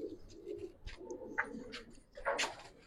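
Giribaz pigeons coo softly in a loft, low murmuring burbles overlapping among scattered faint chirps and rustles, fairly quiet and distant.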